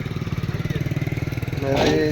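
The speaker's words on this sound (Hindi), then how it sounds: "हल मोटरसाइकिल हलाए रियान भाई" A motorcycle engine idles with a steady, rapid putter close by, then rises briefly toward the end as it starts to move off, with people talking over it in Sindhi during the wheat season.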